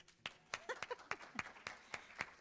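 Clapping in a church congregation after a sung refrain, heard as sparse, fairly close individual claps in a loose rhythm with faint voices between them.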